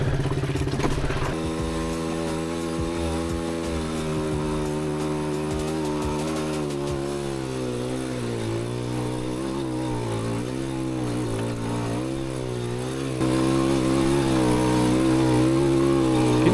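A tiny 100cc dual sport motorcycle engine buzzes continuously while riding off-road, its raspy pitch rising and falling with throttle changes, close and loud, then growing louder near the end.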